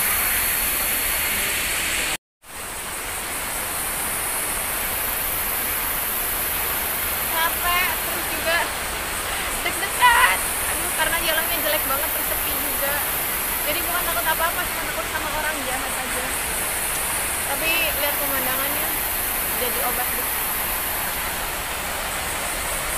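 Steady broadband roar of the Lembah Pelangi waterfall in a forest setting, continuous and loud throughout, with people talking faintly over the rushing water.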